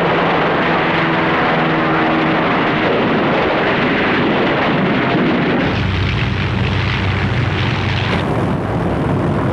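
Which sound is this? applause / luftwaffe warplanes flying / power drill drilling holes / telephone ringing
luftwaffe warplanes flying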